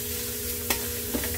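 Meat with chopped olives and sauce sizzles steadily in a pan as it is sautéed and stirred, with a constant close frying hiss and a couple of brief scraping stirs.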